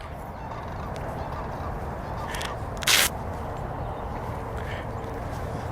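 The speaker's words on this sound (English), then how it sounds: "Let the birds go by here." Birds flying past outdoors give a short, loud honking call, like geese, heard once over steady outdoor background noise.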